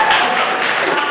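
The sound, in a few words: audience applause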